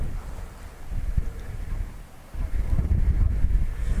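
Strong wind buffets the microphone with heavy low rumbling gusts, easing briefly before surging again, steady and loud throughout.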